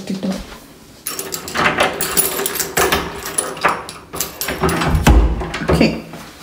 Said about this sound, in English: Let me lock the door.